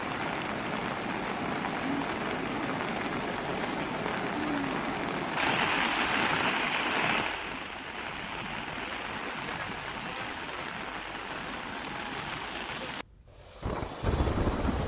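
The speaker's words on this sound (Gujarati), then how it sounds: "મોહન નદી વીરા નદીએ રૌદ્ર સ્વરૂપ ધારણ કર્યું છે નદી બંને કાંઠે વહી રહી છે" The flooded Mohan and Vira rivers surge over both banks in heavy monsoon rain, a dense, continuous roar of rushing water that swells briefly before dropping out near the end.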